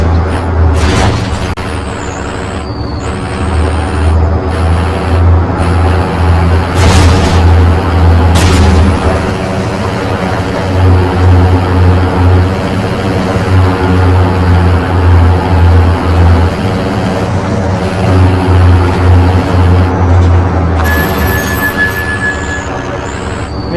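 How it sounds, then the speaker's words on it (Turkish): A truck engine in the Call of Duty Warzone video game rumbles loudly and unevenly, surging and dropping, with sharp bangs and gunfire-like cracks cutting in over the engine noise. "Evet kamyonun sesini duyunca kaçıyor."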